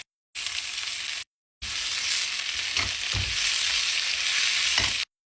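Carrots and green beans dropped into a hot pan with garlic, frying with a loud, steady sizzle and crackle up close. Brief silent cuts break the sound near the start.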